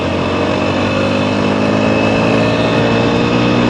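A TVS Apache RTR 160 4V motorcycle engine holds a steady high rev around five to six thousand RPM, a loud, close, buzzing drone with no talking.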